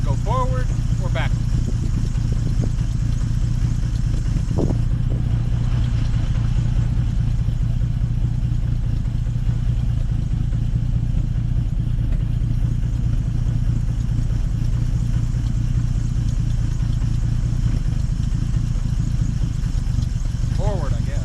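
A 1950 Dodge Meadowbrook engine running at a very low idle, a loud continuous low rumble that keeps going throughout, with a few faint clatters near the start.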